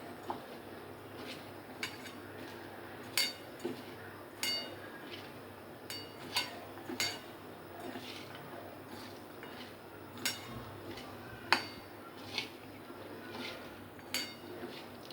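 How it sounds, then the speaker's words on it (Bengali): A spoon clinks and scrapes against a bowl as chopped potatoes, onions, green chillies and other ingredients are mixed for a potato onion curry, giving steady intermittent knocks over a quiet background. "এবার আমি সব ইনগ্রিডিয়েন্টসগুলোকে আলু পেঁয়াজের সঙ্গে ভালোভাবে মিশিয়ে নেব।"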